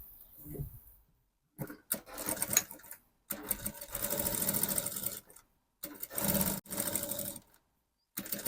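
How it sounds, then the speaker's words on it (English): A sewing machine stitches bias binding onto the sleeve of a lace dress in several close bursts of rapid, whirring stitching. Short silent pauses separate the bursts, and no one speaks. "I'll sew the bias so that I can insert elastic inside the channel."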